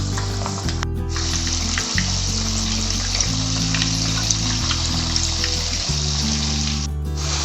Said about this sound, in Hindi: और अब हमें इन्हें दोनों तरफ से अच्छे से क्रिस्प होने तक फ्राई करना है।